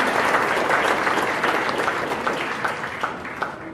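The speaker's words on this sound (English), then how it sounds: "A big round of applause," Applause from an audience at a Kenyan Muslim awards ceremony, steady dense clapping from a crowd that gradually thins and fades toward the end.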